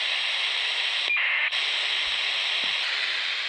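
A Hanrongda HRD-737 receiver gives a steady hiss of static with a faint radio signal underneath, loud and constant, with a short dropout midway.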